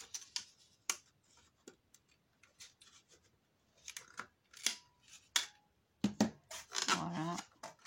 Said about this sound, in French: Moi, je coupe avec la perfo.